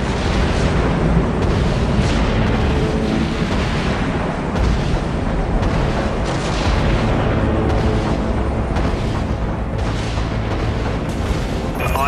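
Ship's primary weapons firing in the space combat game Dreadnought: a dense, continuous barrage of loud booming blasts and rumbling impacts, repeating rapidly without pause.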